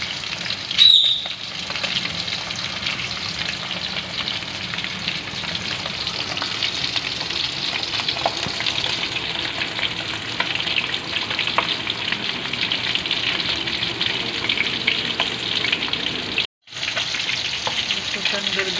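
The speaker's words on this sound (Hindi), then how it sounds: "इसको टर्न कर दिए, इसी तरह चारों साइड से ना आपको फ्राई करना है।" Chicken chargha fries in about a cup of oil, a steady loud sizzle that runs throughout while the pieces are turned on every side.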